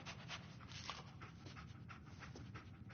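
Dog in a PS4 video game pants steadily and closely for the whole stretch, rapid rhythmic breaths with sniffing mixed in, no voices.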